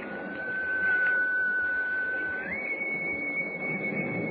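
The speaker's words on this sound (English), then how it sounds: "that whistle came from right in front of me" An eerie whistle effect in a radio drama, one long steady tone that holds, then steps up to a slightly higher pitch and keeps going, clear and alone over faint background noise.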